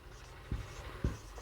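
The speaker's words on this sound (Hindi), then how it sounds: "तो यहां लिख रहे हैं दोस्त" Pen or chalk writing by hand during a class, two short faint strokes spaced about half a second apart, quiet with no talk.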